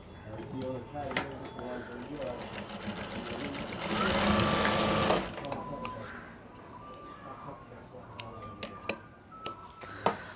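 An electric sewing machine tacks a panjabi collar in place, one steady burst of stitching for about a second in the middle, with clicks and handling taps before and after, amid talk.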